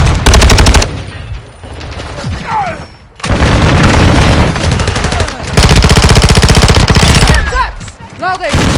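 Call of Duty Modern Warfare 2 firefight with a frag grenade thrown: rapid machine-gun bursts and heavy booming blasts crash in repeated loud waves, with brief lulls and faint game voices in between.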